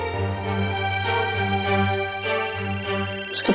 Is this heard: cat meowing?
no